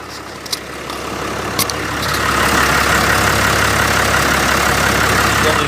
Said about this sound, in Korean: 굉장히 엔진 소리 조용합니다. 제가 마이크 떼서 들려드릴게요.